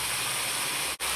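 Panuganti leaves for curry frying in a pan, a steady, close sizzling hiss that runs on evenly and cuts out briefly near the end.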